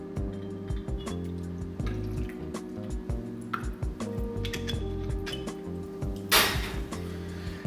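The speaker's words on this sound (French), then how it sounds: "On va y ajouter les 5 centilitres de vodka" Vodka, five centilitres, trickles into a home cocktail glass in a thin, dripping pour, with light clinks of glass and a brief splash, no talk.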